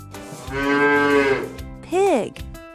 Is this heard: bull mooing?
yes